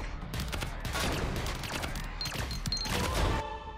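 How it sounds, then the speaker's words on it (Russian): Turrets in the game Greedland fire weak, dense volleys of small shots that crackle steadily for about four seconds, fairly close and without talk. "Жалко, что они еще не стреляют, как пулемет. Было бы вот прям очень круто. Слабенько пока. Очень слабенько стреляют они."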